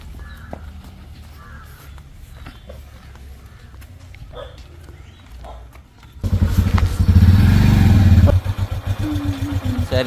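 Quiet outdoor ambience with scattered bird calls gives way to a motorcycle engine starting up loudly and running with a throbbing, pulsing drone.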